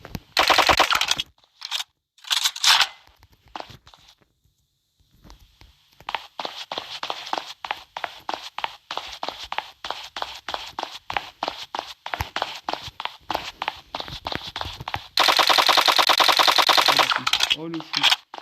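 Rapid automatic submachine gun fire in the blocky shooter game Block Strike, heard as several loud bursts of fast shots separated by short pauses, with footsteps and a long sustained burst near the end.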